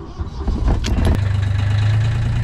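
A sailboat's motor cranks and catches, then settles into a steady low idling rumble close by, with a few clicks as it starts.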